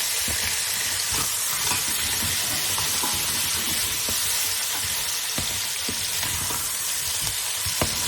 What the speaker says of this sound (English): So give it a stir. That'll fry away.